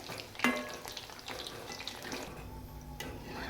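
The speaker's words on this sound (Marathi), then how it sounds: "मस्त लालसर तळून घेते खूप छान लागतात" Coriander vadi (kothimbir vadi) deep frying in oil, a quiet continuous bubbling sizzle close by with a sharp clink near the start and a few soft stirring touches, no voices.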